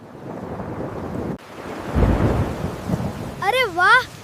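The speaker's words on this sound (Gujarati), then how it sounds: "અરે વાહ, વરસાદ આવી ગયો." Deep thunder rumbles and rolls over steady rain with gusts of wind, in an AI-made Chhota Patlu cartoon, with a brief cut near the start and a rising whistling tone at the end.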